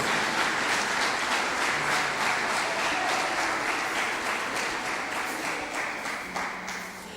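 A church congregation applauds loudly and steadily, dense clapping filling the whole stretch and easing slightly toward the end, with no talk over it.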